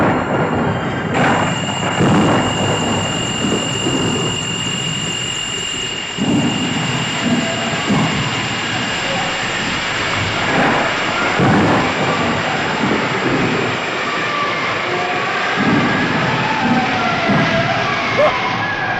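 Heavy thunder rolls through a storm over steady, loud rain, with the rumbles swelling and fading across a continuous wash of falling water.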